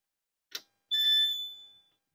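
A CrossFit interval timer box with its acrylic lid fitted gives a short click, then a single sustained electronic beep of about a second that fades out, fairly quiet and heard alone.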